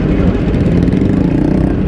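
Several motorcycles ride off together on a circuit during a track day, a loud, steady, dense engine roar with a rough rumbling drone that stays close and continuous, with no voices over it.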